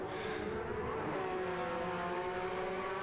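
Race cars in Gran Turismo at Grand Valley Highway 1, one on hard tyres passing another on mediums: a steady, loud engine drone with rising harmonic whine, no voices.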